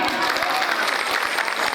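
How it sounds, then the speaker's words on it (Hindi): Sustained applause from a seated audience at a Hindi religious discourse, many hands clapping together in a loud, even wash that continues throughout. "इन्होंने आज से क्रोध छोड़ दिया। बजाओ ताली।"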